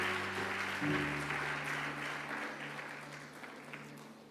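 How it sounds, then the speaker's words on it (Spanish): A church congregation applauds to welcome a special guest, a broad, diffuse wash of clapping that slowly fades, with a low sustained tone fading out early on. "Tenemos un fuerte aplauso para nuestro invitado especial."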